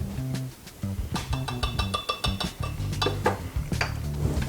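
Seasoning and kosher salt are stirred in a bowl for smoked carnitas, giving close, repeated clinks and scrapes of a utensil against the bowl in an uneven rhythm, with no talking.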